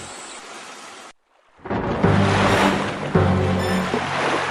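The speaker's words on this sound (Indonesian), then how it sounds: "seketika itu angin bertiup kencang dan menggoyangkan sebagian badan kapal" A storm at sea pushes wind and surging waves against a rocking ship, heard as a loud, continuous broadband roar that cuts out briefly and then swells back in, with a low rumble underneath and no speech.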